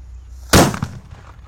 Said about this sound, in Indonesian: Mercon Banaspati level 1 kita nyalakan.